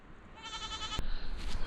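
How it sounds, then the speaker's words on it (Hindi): Young goat kids bleat in a quick wavering cry outdoors near a lake, left on their own while their mothers come down from above, close and moderately loud over a breezy background. "ये बकरी के मेमने, इनकी अम्मियाँ वो ऊपर से आ रही हैं"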